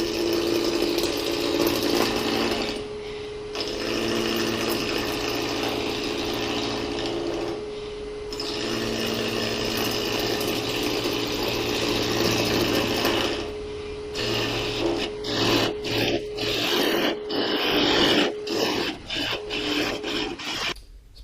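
Wood lathe turning and tapering a small Christmas tree spindle, with a steady whirring hum, gritty tool scraping against the spinning wood and brief pauses before a choppier cutting stretch, close up.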